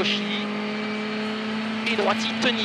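Rally car at the 2013 Rallye de France Alsace stage from Soultzeren, climbing a mountain pass, its engine holding a steady droning tone with a couple of brief rises near the end, beneath continuous commentary.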